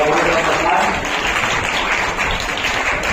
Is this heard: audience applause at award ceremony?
yes